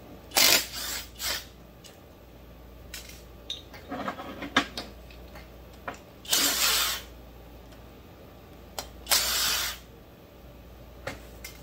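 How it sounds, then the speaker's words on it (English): Loose screws from a Pro Mac 700 chainsaw teardown clatter onto a table in a few short, bright metallic bursts between quieter handling clicks and small tool noises, close up and with no speech. "I'm just dropping these screws on the table"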